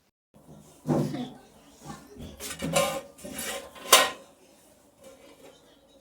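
A metal lid is handled and set onto a cooking pot of khichuri outdoors at a family picnic, giving several close metallic clanks and scrapes over a few seconds, with a voice speaking briefly at the start.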